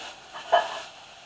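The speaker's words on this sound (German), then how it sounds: "Jetzt brate ich das mit den Zwiebeln an." Onions frying in a little oil in a pan, a brief soft sizzle with a single stirring scrape, close and alone.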